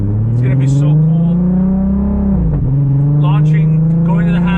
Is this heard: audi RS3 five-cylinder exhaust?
yes